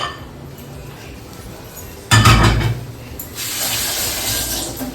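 A metal lid clanks onto a cooking pan with a brief loud clatter, followed by a steady hiss of simmering underneath.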